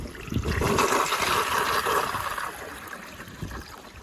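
A 1981 Eljer Emblem toilet on a flushometer valve overflows after repeated flushing, a loud, steady rush of water churning and gurgling for several seconds before easing slightly.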